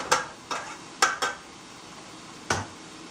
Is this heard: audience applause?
no